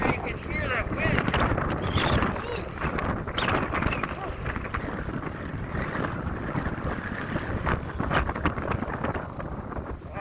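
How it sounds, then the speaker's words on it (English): Strong wind buffets a microphone on a walk toward an interstate, making a loud, continuous roaring rumble that never lets up. "I'm sure you can hear that wind."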